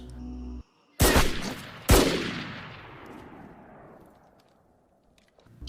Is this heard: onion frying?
no